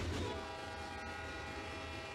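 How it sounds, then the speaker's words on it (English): A loud, sustained multi-tone Nathan P5 locomotive air horn blares continuously with steady pitch, underpinned by low rumbling rail noise. "one of the best Nathan P5 air horns I have ever heard"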